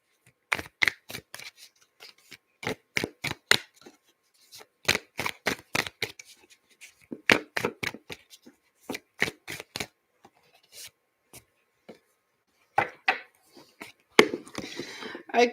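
Tarot cards being shuffled in repeated quick bursts of papery riffling and flicking, close and clear with short pauses between rounds and no voices.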